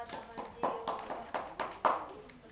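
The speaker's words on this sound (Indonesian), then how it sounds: "Tepuk tangan dong." Several loose, uneven hand claps from a small group at a children's Easter Thursday church gathering, thin and fairly quiet, with talking running underneath.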